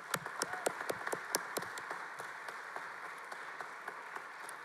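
Quiet, sparse applause from an audience at a university Bear Day ceremony, individual claps distinct and irregular, fading in density over a few seconds.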